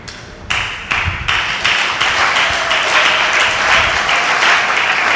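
A church congregation bursts into applause, the clapping starting in a few sharp bursts and then swelling into sustained, dense, loud clapping that carries on throughout.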